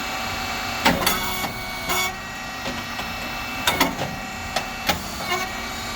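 A SYP2515 rice cake machine with a two-phase motor and pump runs steadily, a continuous mechanical hum broken by sharp intermittent clacks and hissing bursts from the machine's cycle, heard alone at close range.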